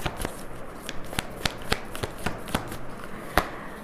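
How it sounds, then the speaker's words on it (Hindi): Tarot cards being shuffled and drawn by hand during a reading: a close, busy patter of soft riffles and sharp card flicks, unevenly spaced, with no talking. "पहले हम तीन कार्ड्स निकालते"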